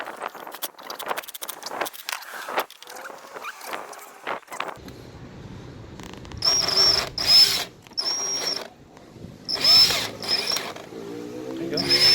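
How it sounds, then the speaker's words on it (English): A power drill backs old screws out of a PVC bike trailer to free a wheel. After some quiet handling noises, several short, close whirring bursts start and stop. "Now let's get some of these old screws off and get this wheel off."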